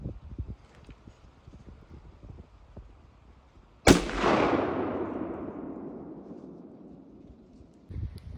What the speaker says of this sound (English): I just shot one, and I'm pretty confident in my shot.